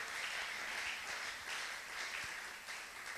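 A church congregation applauds in a steady, dense roar of clapping that holds at even loudness throughout, with no voices rising above it.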